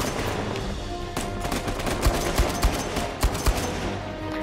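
Semi-automatic AK rifle fire in Uncharted 4: a few sharp, loud shots spaced out over a dense bed of game sound effects and background noise, with no full-auto bursts.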